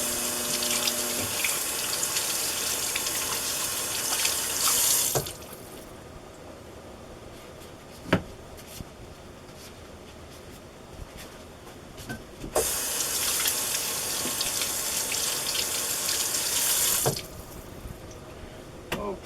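Tap water runs into a sink while potatoes are rinsed, two steady gushing stretches of several seconds each separated by quieter pauses with a few small knocks.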